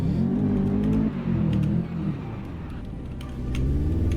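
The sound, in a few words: Mazda RX7 engine revving, tires spinning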